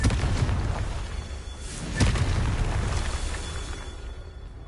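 In Hogwarts Legacy, the Confringo fire-blast spell goes off as a loud, deep booming explosion with a rumbling tail and a second burst about two seconds in, no voices.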